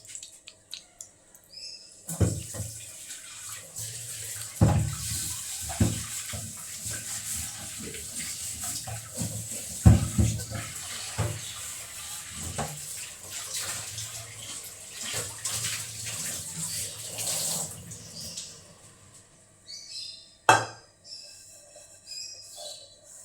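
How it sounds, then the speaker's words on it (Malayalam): Running tap water splashes into a metal pot, with intermittent clanks and scrubbing bursts as the vessel is rinsed; a short pause, then more clatter. "പാത്രം ഒന്ന് കഴുകിയെടുത്തിട്ട് വരാം."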